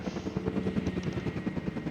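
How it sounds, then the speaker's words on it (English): Helicopters carrying a Triceratops in a video game, heard as steady, rhythmic rotor chopping close and fairly loud, with no voices. "We've got these helicopters slowly collecting and moving the Triceratops."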